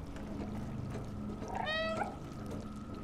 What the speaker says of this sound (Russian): Сейчас помяукаю.